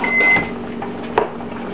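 A microwave oven hums to a finish and gives a short beep, fairly close and alone in the room.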